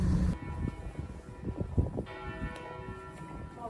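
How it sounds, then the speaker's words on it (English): A bell in Geneva rings out with resonant, sustained tones that hang in the air over a low background rumble, heard from some distance. "The sound of the bell."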